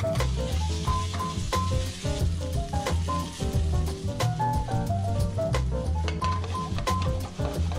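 Potatoes sear and sizzle in a hot pan for a potato hash with pulled pork, a steady close frying hiss with scattered pops and occasional scraping, no voices.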